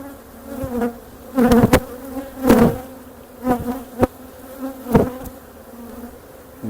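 Honey bees buzzing in a hive, a dense droning hum with irregular louder surges as bees pass close, continuous throughout and with no speech.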